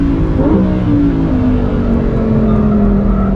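A 2023 Lamborghini Huracan Tecnica engine on a race track, loud and close throughout, its tone sweeping up in a quick rev blip and then holding a steady, gradually falling drone as the car drives on without any talk.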